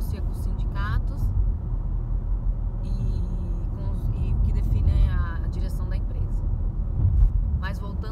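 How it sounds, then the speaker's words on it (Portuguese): Steady street traffic in Spain under quarantine, with cars rumbling and passing by at a continuous moderate level while people talk over it. "Mas voltando ao trânsito, acho que está bastante movimentadinho."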